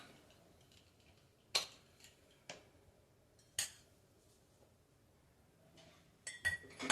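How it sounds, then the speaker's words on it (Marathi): Metal pressure cooker lid handled on a home kitchen stove while making sambar, giving a few sharp, spaced clinks and taps against a quiet background, with a quick cluster of clatter at the end. "आता आपण कुकरचं झाकण लावूयात।"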